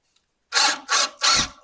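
A power tool works out the old floorboard screws of an MGA roadster, sounding in three close, loud bursts of whirring, each about a quarter-second long with short gaps between them.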